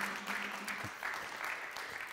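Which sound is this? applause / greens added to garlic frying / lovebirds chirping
applause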